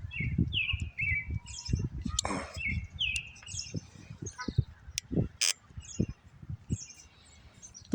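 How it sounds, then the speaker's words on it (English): Several birds sing from a tree under a clear sky, bright chirps and warbling phrases repeating across the clip over a low background of rustle and faint voices. "Listen to our beautiful birds."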